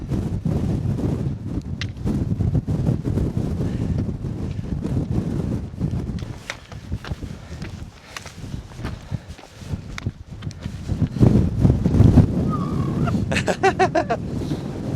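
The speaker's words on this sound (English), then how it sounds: "Oh, it's a windy one." Wind gusting across Longside, a 734-metre fell ridge under Skiddaw in the Lake District, buffeting the microphone in rough, uneven rumbling bursts that rise and fall, with crunchy footsteps and brief rustles near the end.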